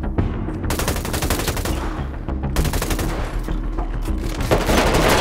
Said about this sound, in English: Oh, why is he shooting you?